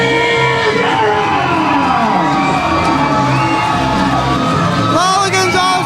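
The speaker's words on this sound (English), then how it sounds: "a capacity crowd here at the Knights of Columbus Hall are celebrating with Liger Rivera" A capacity crowd at the Knights of Columbus Hall cheers, shouts and whoops loudly and continuously for a new EWF American wrestling champion, with high excited yells rising near the end.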